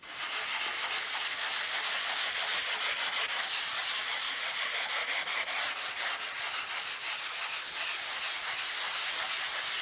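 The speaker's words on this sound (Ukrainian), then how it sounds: "не забуваємо трішечки зашкурити нашу повністю висохшу поверхню" Steady, continuous scratchy rubbing of a sanding block across a fully dried wood surface, close up and even in rhythm throughout.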